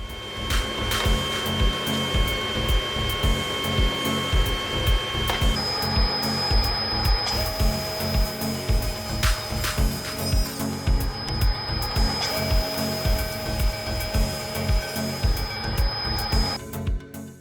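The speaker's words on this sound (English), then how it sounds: "Oh yeah, and the planer," A wood thickness planer runs steadily through a woodworking shop job on boards for a laundry room project, a loud continuous machine drone with periodic pulsing as stock feeds through, a few higher whines rising and dropping away.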